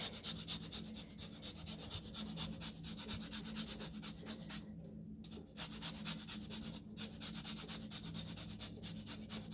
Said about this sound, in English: then I'm going to zest some of the lemon skin on here